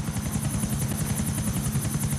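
A helicopter flies in the video game GTA IV: The Lost and Damned, with a steady, loud rotor chop and a droning engine whine running throughout, constant and close with no voices.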